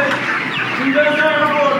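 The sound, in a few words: chickens clucking on a poultry farm while being fed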